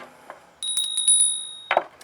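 A small bell on a witch's altar rings in a quick run of bright, close strikes, then sustains a clear high tone before a soft clatter as it is set down.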